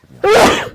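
A single loud, close sneeze, short and explosive, with a brief murmur of speech just before it.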